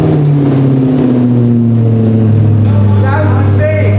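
A car fitted with a newly installed exhaust system starts and revs, a steady low engine drone shifting pitch as it climbs and settles, loud and close, with people talking over it.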